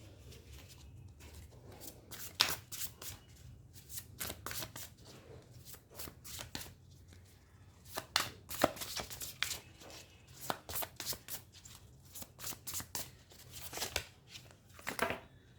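Tarot cards shuffled by hand in a quiet room, many crisp papery riffles and slaps in irregular bursts, close and clear, with soft rustling between them and no talking.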